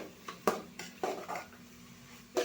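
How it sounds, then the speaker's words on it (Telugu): A metal spoon scraping and clanking against a pan while spices and sauces are stirred, several sharp clinks in an uneven rhythm with softer scrapes between. "మిక్స్ అయితే చేస్తున్నాం ఇప్పుడు మళ్ళీ"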